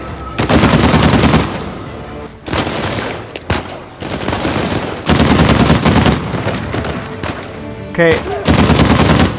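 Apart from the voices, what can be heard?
gunfire in video game Uncharted 4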